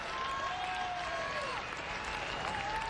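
Cubs fans in a baseball stadium crowd cheer and applaud, a steady distant wash of clapping and crowd noise under a whistle-like tone.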